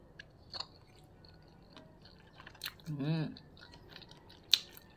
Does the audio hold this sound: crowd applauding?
no